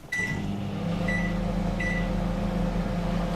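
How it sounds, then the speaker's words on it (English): A microwave oven running while making popcorn, a steady close hum with a constant low drone, preceded by a short click and a few faint high beep tones, no talk. "I find the microwave method cleaner, so to say."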